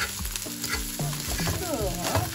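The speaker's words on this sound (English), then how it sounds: "Let's just put now the onion for it. Yeah. I'll fry a little bit then." Onion frying in a pan, a loud close sizzle with a few quick stirring scrapes over about two seconds, with no talking.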